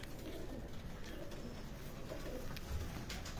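Gathuri pigeons cooing on a rooftop, soft low coos repeating faintly against a quiet outdoor background.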